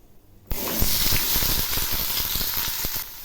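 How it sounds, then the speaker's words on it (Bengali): Bottle gourd pieces and radhuni seeds drop into hot oil, setting off a sudden loud hiss that holds steady with crackling pops for about two and a half seconds before easing. "এবার আমি ফোড়নের জন্য দিচ্ছি 1/2 চামচ রাঁধুনি, আর দিচ্ছি ওই লাউগুলো"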